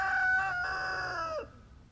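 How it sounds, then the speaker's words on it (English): A single rooster crows once nearby, a loud, drawn-out call that rises and then trails off into quiet after about a second and a half. "So lots of crowing around here."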